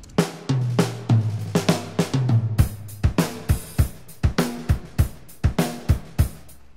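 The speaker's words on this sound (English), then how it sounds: "They do sound like a good, solid, kind of indie style drum kit." Dry, unprocessed samples from the Ujam Virtual Drummer 2 indie-style kit play a steady groove of punchy kick, snare and hi-hat hits, close and loud with no voices.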